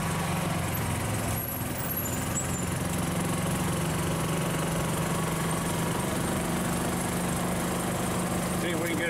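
Steady, low mechanical drone of a cammed engine idling in a 1957 Chevy golf cart, continuous and fairly quiet with a rough, lumpy tone and no clear start.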